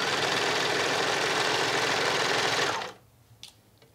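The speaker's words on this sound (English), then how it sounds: "this serger doesn't have speed control, so you got to control it by the amount of pressure that you press on the foot pedal" A serger sewing machine stitches fabric for a twisted headband with a loud, dense, steady whirring hum, then winds down and stops near the end, leaving a few faint clicks.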